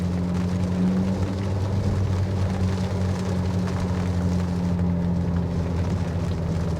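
An Abarth 500e electric car in track mode plays its synthetic engine sound while accelerating on a mountain pass road, a sustained tonal drone over road rumble, steady and close throughout.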